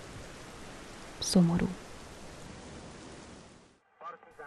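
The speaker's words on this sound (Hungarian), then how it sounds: "Az ólomszürke égből kitartóan esik az eső." Steady rain falls from a grey sky as a soft, continuous hiss, briefly broken by a short spoken word and another voice near the end.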